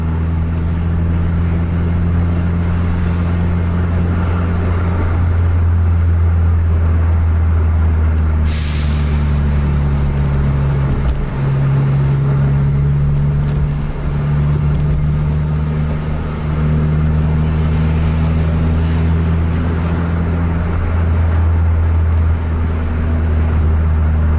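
A Hino R260 bus engine at full throttle, a loud, close, sustained drone with droning tones that rise and shift through gear changes over about twenty seconds, no voices.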